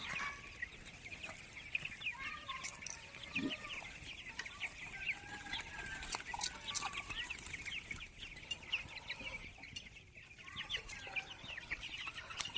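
Young chicks let outside cluck and cheep steadily in a lively, overlapping chorus, fairly faint, with soft outdoor background noise throughout.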